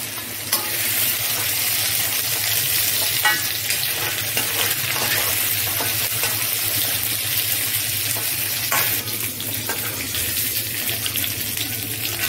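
Loud, steady sizzling of tilapia frying in hot oil, a continuous crackling hiss with occasional pops, no talking.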